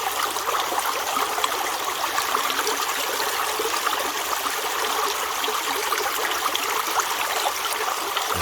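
A creek in West Virginia flows steadily on a hot day, a constant, fairly loud rush and trickle of water with no breaks and no voices.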